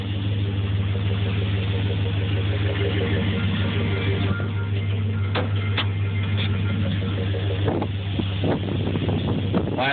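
A 2002 Chevy Silverado 4x4 5.3 V8 engine idles with a low, steady rumble, close and continuous, with a few clicks and rattles near the end.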